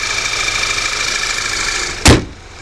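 A 2012 Audi A4 2.0T Quattro's turbocharged four-cylinder engine idles with a steady, slightly diesel-like clatter, close by, before a short sharp thump near the end.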